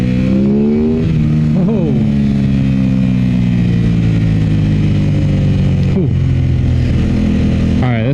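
An Aprilia RS 660 motorcycle pulls hard and loud, the engine note rising through the gears with clear shifts, heard close from the rider's position while a voice briefly exclaims.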